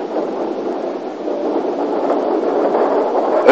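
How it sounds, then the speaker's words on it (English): A narrow gauge Beyer Peacock 2-4-0 steam locomotive from Peel runs into a station past bracket signals, giving a steady rumbling, clattering roll that holds a constant level and swells slightly toward the end. "another of the Bayer Peacock 240s runs in."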